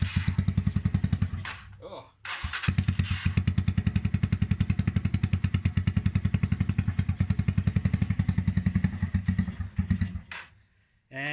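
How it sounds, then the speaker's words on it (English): A Keeway CR152 motorcycle with an open, unbaffled exhaust idles loud and close with a rapid, lumpy single-cylinder thump. It stumbles and briefly cuts out near the start, then dies away at the end, with a short exclamation. "we're going to treat you to the symphony of sound that is the Keyway with an open exhaust"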